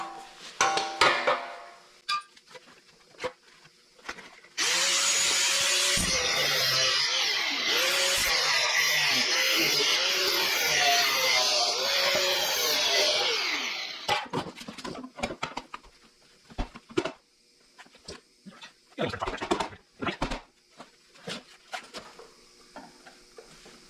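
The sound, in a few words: power tool trimming rusty car rocker panel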